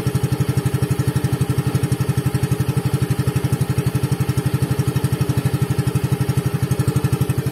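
A 2022 Yamaha FreeGo scooter, eight months old with faint exhaust smoke, idles nearby with a steady, rapid low putter that stays even and loud throughout.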